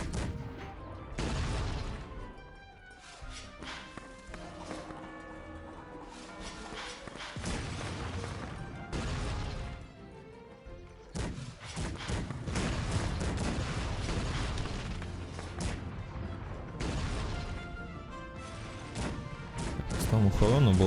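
Repeated booming cannon shots and crashes from the game Cossacks 3, in bursts over a dense soundtrack, with a voice talking over parts of it.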